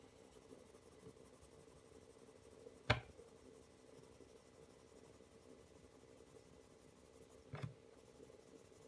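A coloured pencil rubs across paper as an area is coloured in with light cerulean blue, a very faint, steady scratching broken by two sharp little taps.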